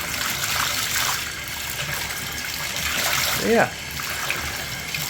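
Running water rinses a vacuum cleaner filter from an Amway ClearTrak / WMJ Workhorse upright, a steady loud splashing wash under the tap with a brief spoken word partway through.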